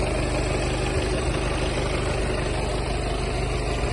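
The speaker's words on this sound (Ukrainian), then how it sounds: "Двигун працює гарно." A 2015 Volkswagen Passat B8 2.0 diesel engine idles with a steady, low drone, evenly throughout, close by, with a constant rumble and no speech.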